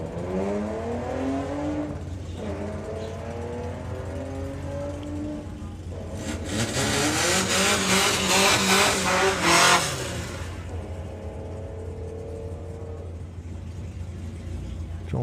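Drag racing cars launching down the strip at Santa Pod Raceway, with engines idling and revving in rising pulls, then a loud full-throttle roar for several seconds before fading back to idle.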